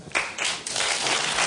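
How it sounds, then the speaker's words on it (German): Studio audience applause during a German television show, a burst of clapping that swells and continues steadily for a moment, broad and fairly loud. "Hab ich nicht vorhin gesagt, dass mich dieser blöde Applaus stört?"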